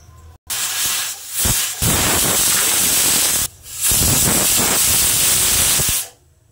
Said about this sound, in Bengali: ডালটা সিটি দেওয়া হয়ে গেছে, আমি এবার নামিয়ে নেব।